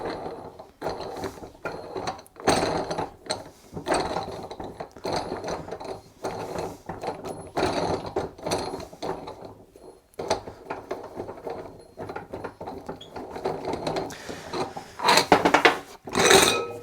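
A ratchet clicks in quick bursts while tightening down during tire changing, loud close mechanical ratcheting repeated in several runs with brief pauses between.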